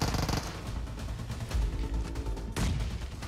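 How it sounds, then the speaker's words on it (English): Sustained machine-gun bursts from an MG3 in a PUBG Mobile esports match, loud and close, with rapid overlapping volleys, a heavier blast near the middle and a sharp fresh burst toward the end. "There's the MG3 in both of these two players' hands. This is a deadly, deadly weapon."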